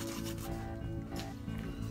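A knife drags across the skin of a wild hog on a cattle ranch, giving a brief, loud rasping rub over a low, steady hum.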